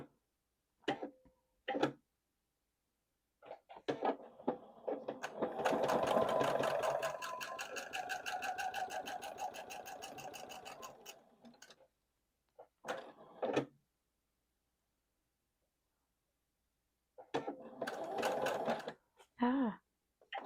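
A sewing machine stitches quilt block pieces along a marked line, running in a steady fast rhythmic whir for several seconds, with shorter bursts of stitching before and after amid quiet pauses.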